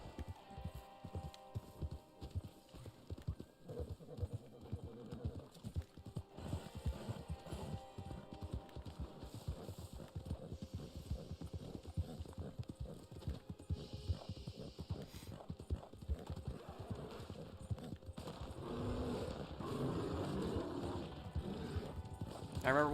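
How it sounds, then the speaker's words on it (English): Horse hooves clip-clop in quick, uneven beats in Red Dead Online, with a whinny rising near the end, while a person talks over the game sounds at moderate volume. "I gotta feed my horse"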